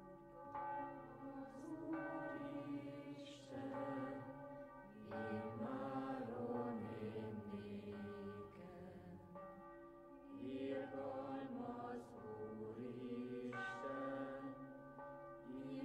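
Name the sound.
church bells ringing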